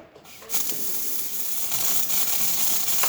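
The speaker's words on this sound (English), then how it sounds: "And now we can test the steamer." The steam wand of a Zacconi espresso machine, freshly serviced with a new boiler, starts with a short click, then gives a loud, steady hiss of high-pressure steam that continues unbroken with no voices.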